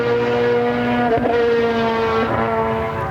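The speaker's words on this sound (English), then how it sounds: "a pair of GT4 Astons make fairly swift work of both of those as they come down the straight" A pair of GT4 Aston Martin race cars roar down the straight at Silverstone during a Masters GT Trophy race, a loud sustained engine drone with two brief pass-by surges a little over a second apart.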